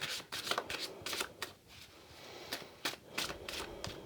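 Tarot cards shuffled by hand, close and soft, with a series of quick riffling flutters and papery slaps separated by brief pauses.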